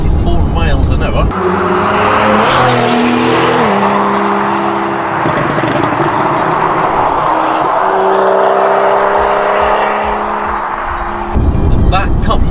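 Porsche 911 Carrera 4S with a naturally aspirated 3.8-litre flat-six, driven with the engine rising and falling in pitch through gear changes and a loud rasping note, heard close under a talking voice.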